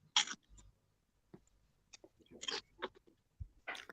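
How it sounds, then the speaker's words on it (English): Crunching while eating Funyuns onion-flavored snack rings: a series of sharp, close crunches and crackles with quiet gaps and soft mouth noises between bites. "I'm eating Funyuns."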